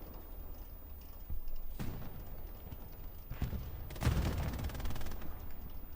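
Gunfire in the online WWII shooter Hell Let Loose on the Omaha map: scattered distant and mid-range shots, a few sharp cracks and a denser burst of rapid fire, under a low battlefield rumble.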